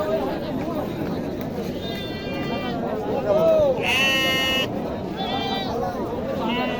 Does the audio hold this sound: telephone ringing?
no